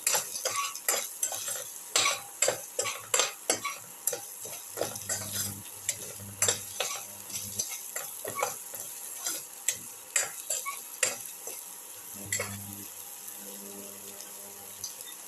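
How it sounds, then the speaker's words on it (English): Ginger, garlic, cumin and shallots sizzle in a pan while a utensil scrapes and stirs in repeated sharp strokes, close and steady over a soft frying hiss. "Put in the ginger, the garlic, start the ginger and the garlic together, the cumin and the shallots."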